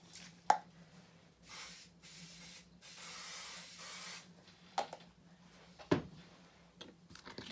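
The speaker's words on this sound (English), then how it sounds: "So I just pop into the box and use my spray glue." Spray glue hisses onto card inside a box in a few sustained bursts, the longest about one and a half seconds, close and fairly loud, with a faint steady hum and light handling taps around them.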